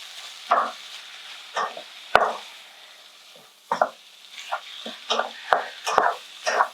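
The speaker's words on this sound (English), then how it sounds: "Now we're just going to stir in all the onions, mushrooms and garlic into the mince." Onions, mushrooms and garlic are stirred into browning mince for spaghetti bolognese, producing a series of separate close scrapes and soft clacks from the spoon over a faint background sizzle.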